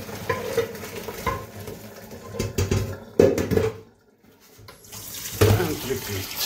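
Tap water runs and splashes over pokeweed leaves being rinsed in a sink, a steady broadband wash with bursts of louder splashing and a brief lull midway, close and fairly loud.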